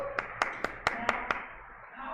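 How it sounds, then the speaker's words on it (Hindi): Six sharp claps from students, spaced irregularly over about a second and a half in a classroom, fairly distinct against a low background hum. "ताली बज गई भाई"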